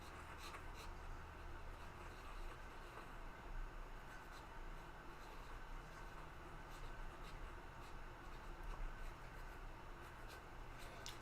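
Pencil scratching steadily across paper while sketching a figure, a continuous soft rasping texture with small strokes, fairly quiet and close with faint background hum, no talk.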